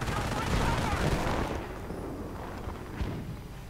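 Mortar round bursting in a Company of Heroes–style 1v1 war game match, a loud dense crash of gunfire-like blasts in the first second and a half, then a lower rumbling tail with a faint thump near the end.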